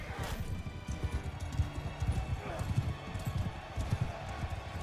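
Horse hooves gallop in a steady clip-clop through the medieval battle game Bannerlord, mixed with constant combat noise and fairly close.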